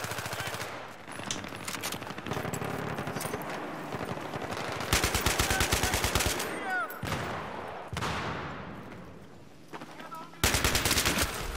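Rapid automatic gunfire from a FAMAS rifle in the video game Battlefield 3, with loud sustained bursts and short pauses in a busy battle soundscape, plus scattered weapon and effect sounds.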